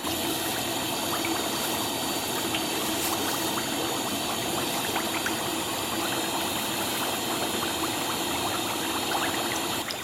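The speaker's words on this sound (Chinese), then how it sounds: "然后小火慢炸，炸至飘起。" Chicken drumsticks deep-fry in a pot of hot oil over low heat, giving a steady, dense sizzle with fine crackles and pops that run unbroken throughout.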